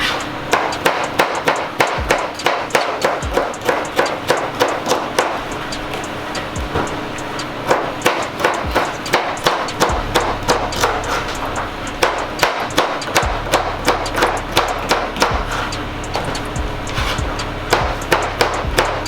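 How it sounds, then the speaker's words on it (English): Okra sliced with a knife on a cutting board, a rapid, steady run of sharp close chops and knocks lasting the whole stretch, loud and alone with no talking. "Slicing the okra."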